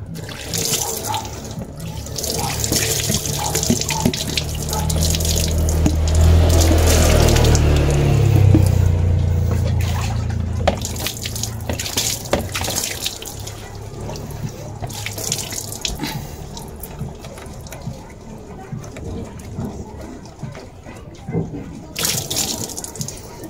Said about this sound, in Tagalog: So ayan, banlawan natin.